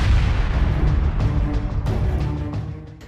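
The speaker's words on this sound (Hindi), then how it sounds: "रॉकेट इस चौकी पर बरस पड़ते हैं, जिसमें जोरदार धमाका होता है" A heavy, deep rocket blast striking a military outpost in northern Israel rumbles and rolls away, loud and booming, with a few sharper cracks scattered through the fading roar.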